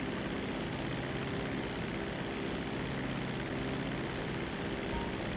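Propeller airplane engine in GTA Online, a steady loud drone that holds without break, with no talking.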